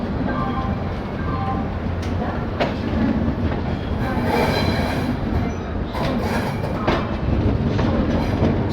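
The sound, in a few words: express train slowly entering Pandit Deendayal Upadhyay station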